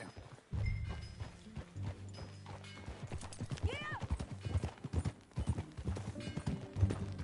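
Horse hooves clip-clop steadily at a walking pace in Red Dead Redemption 2, with a whinny partway through and voices talking over the rhythm.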